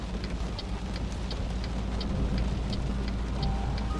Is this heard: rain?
yes